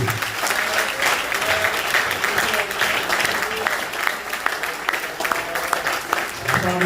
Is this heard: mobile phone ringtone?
no